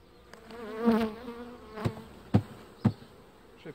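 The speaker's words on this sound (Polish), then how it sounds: "Tą pszczołę, która jest tutaj, możemy sobie wsypać do odkładu," Honey bees buzz as they are shaken from a grid into a three-frame nucleus hive. A rising hum swells and fades, followed by several sharp knocks or thumps, close and moderately loud.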